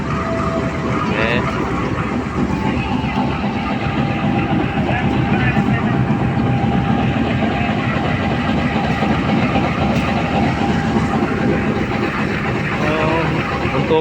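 KA Majapahit passenger train running at speed, heard from the coach right behind the locomotive: a steady, loud rumble and wheel noise with a faint tonal hum, continuous throughout.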